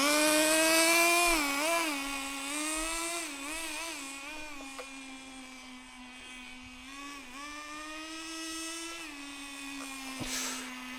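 Vintage Bycmo 1/10 scale nitro RC car engine screaming at high revs, a steady loud whine that rises and dips as the throttle changes, running alone with no talk.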